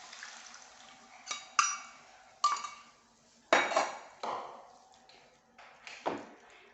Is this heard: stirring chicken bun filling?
yes